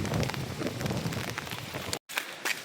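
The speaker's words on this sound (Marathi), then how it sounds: "पाऊस आलाय." Heavy rain falls steadily in an outdoor downpour near a pond, a dense hiss that cuts out for a moment before resuming.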